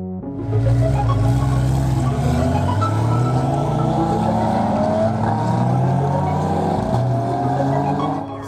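Loud, steady roar of GT4 race car engines on the starting grid at Le Castellet for a French GT4 championship race, a dense sustained drone with shifting revs and no speech.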